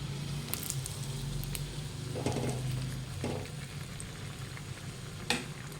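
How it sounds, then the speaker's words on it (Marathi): Bread pakoda frying in oil over a medium gas flame gives a steady, close sizzle with soft bubbling and a few brief clinks and stirring noises. No one speaks. "मिडियम गॅसवर तळू द्यायचं मस्तपैकी लो ते मिडियम टर्न करूया"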